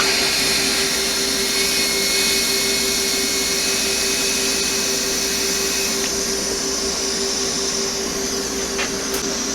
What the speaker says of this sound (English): I am going to TIG weld these because this is such a heavy block of metal